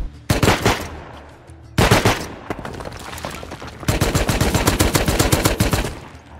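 Auto turret in Rust firing rapid automatic bursts, loud and close, in three long strings of shots with short gaps between them.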